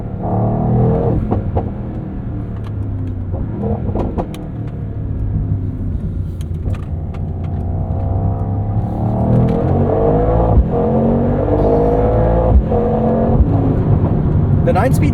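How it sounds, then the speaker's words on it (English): A 2024 Mercedes-AMG GT 63 coupe with a 577 hp engine and nine-speed gearbox pulls away, its deep engine rumble building under road noise with rising and shifting tones as it drives off. "Drive off into the sunset in my AMG GT."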